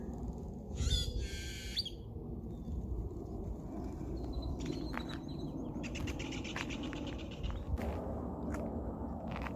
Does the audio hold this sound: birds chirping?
yes